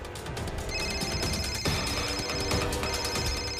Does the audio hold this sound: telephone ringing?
yes